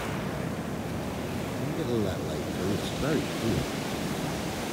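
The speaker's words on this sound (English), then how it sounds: "The waves keep tricking us, man." Sea waves wash steadily onto a beach at Seaham on a breezy day, a broad continuous roar with gentle swells, while people talk nearby over the surf.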